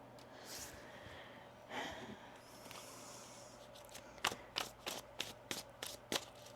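A deck of tarot cards is shuffled close by, first with soft rustles and then a run of quick, crisp riffle snaps in a fairly even rhythm.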